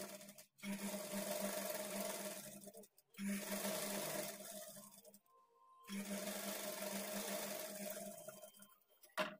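A sewing machine runs in three steady bursts, stitching folded blouse piping, with a constant motor whirr and a firm tonal hum, separated by short pauses, close and alone without talk.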